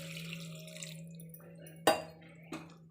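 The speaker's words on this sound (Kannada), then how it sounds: "ಸ್ವಲ್ಪ ನೀರು ಹಾಕ್ಕೊತಾ ಇದ್ದೀನಿ." A little water poured into a pan of cooking pepper chicken: a quiet kitchen hum, then a sudden short splash and hiss, followed by a second smaller splash.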